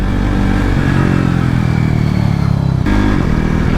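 KTM RC390 Cup motorcycle at a track day upshifting to second gear with an IRC quickshifter: a loud, close engine roar under hard acceleration, with a brief dip and quick jump in pitch at the shift.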